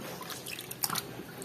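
Water trickles and drips while muddy toy cars, including a Tayo bus, tow truck and trucks, are washed, giving faint, soft patters and dribbles with a few brighter splashy drips in the middle.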